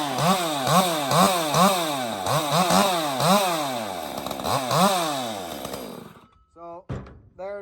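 Unmodified chainsaw engine, before any porting or muffler mod, revving in rapid repeated surges with sweeping harmonic bursts, loud and close, then cutting off into a few faint sputters at the end.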